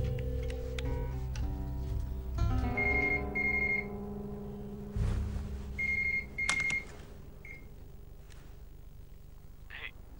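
A telephone rings late at night in a movie scene, with short electronic ring bursts repeating over background music, then fading.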